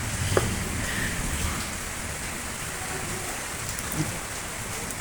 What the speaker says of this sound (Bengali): আর এই যে বৃষ্টি এইভাবে একভাবে পড়তে আছে